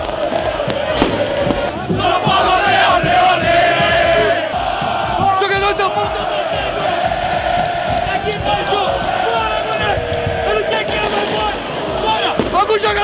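Flamengo supporters chant and roar at the Morumbi stadium entrance before a Copa do Brasil match against São Paulo: a dense, loud, unbroken crowd din with voices talking close by.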